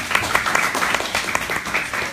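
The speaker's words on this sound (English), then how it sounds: "Y'all clap her up." An audience claps to welcome a young woman, Omaria, to the mic at a spoken-word poetry event, a dense, steady patter of many hands with a few sharper claps, running throughout.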